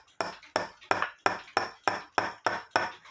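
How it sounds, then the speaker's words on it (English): Nine sharp metallic hammer strikes on a punch, fixing a minute hand of an 1855 French clock, ring out in an even, steady rhythm, each with a brief bright ping. "hit it with the hammer."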